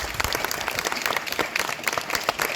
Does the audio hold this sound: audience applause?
yes